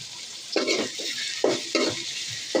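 Duck meat frying with onion paste and ginger paste in a pan on a gas cylinder stove on a balcony, stirred in several distinct bursts of scraping and sizzling over a steady background hiss, with no talking.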